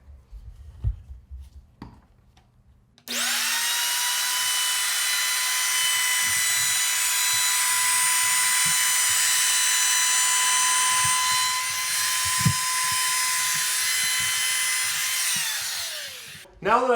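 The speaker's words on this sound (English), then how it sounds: "Now that I've got this router down, it's not quite flush with the other piece" A router whines at a high, steady pitch for over ten seconds as it trims a laminate countertop edge, starting abruptly after a few soft knocks and then winding down.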